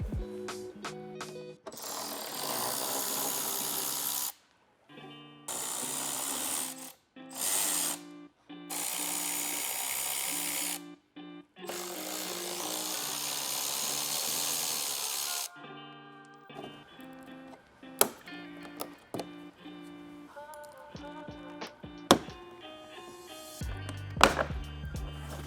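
An electric tool backs out 10mm bolts from the front bumper of a 2025 Toyota 4Runner, coming in repeated short whirring bursts separated by pauses, followed by quieter clicks and handling noises.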